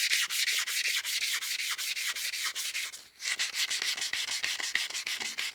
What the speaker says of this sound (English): One thing I do want to do while the lathe is stopped is just sand this direction to get rid of some of those deeper radial scratches.